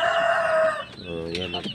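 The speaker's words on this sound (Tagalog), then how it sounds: "So yan mga kapanok." Young farm chickens, newly moved down from a perch, cluck and squawk up close, with one loud drawn-out call followed by shorter overlapping clucks.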